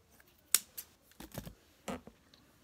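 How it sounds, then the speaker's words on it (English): Scissors or cutters snip wire in a few short, sharp clicks and crunches, close and quiet, while beading a necklace from wisdom teeth. "so you want to cut off a bit more wire"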